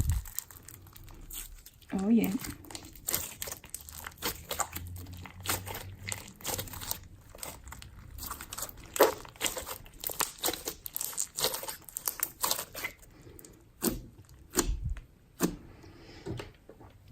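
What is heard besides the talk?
slime with beads being mixed, crunching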